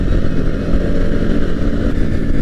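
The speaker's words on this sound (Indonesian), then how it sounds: "si Dur juga sekarang udah pakai knalpot racing nih cuy" A motorcycle fitted with a racing exhaust runs at a steady, loud, deep rumble close by, with no talk, on a Sunday morning group ride.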